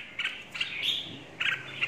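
Red-whiskered bulbul from the Lạng Sơn rock mountains singing close by, short bright chirps and warbled phrases in bursts with brief gaps, faint background hiss between calls.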